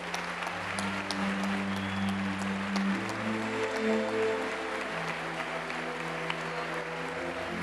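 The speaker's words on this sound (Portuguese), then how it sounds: "Se não for, aplauda ao Senhor." A church congregation in Santa Catarina, Brazil, applauds steadily and fairly loudly throughout, with sustained keyboard or organ chords playing beneath the dense clapping.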